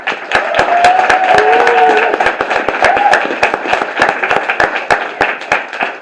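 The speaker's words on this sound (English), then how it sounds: "let's have a big round of applause just to kick things off" Audience applause at a university creative writing and art contest celebration, a dense burst of many hands with sharp individual claps standing out, fairly close and loud, thinning gradually toward the end.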